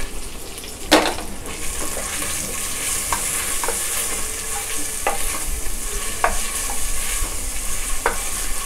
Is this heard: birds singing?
no